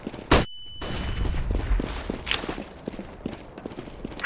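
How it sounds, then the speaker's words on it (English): A flashbang goes off in CS:GO with a sharp burst followed by a thin ringing tone, then in-game footsteps and scattered thuds keep going. "I'm throwing a flashbang."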